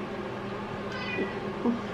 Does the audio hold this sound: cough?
no